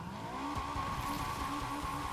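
Acura Integra pulling away in the NFS Unbound racing game, a steady engine tone rising slightly as it drives off, with tire noise underneath, continuous and fairly loud with no talk.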